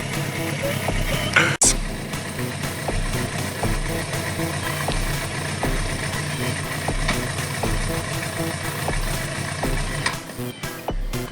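Suzuki GSX 750F motorcycle engine idling and running steadily in the rain as the rider works the clutch, a continuous low rumble with slight rises, one sharp knock early, close and moderately loud.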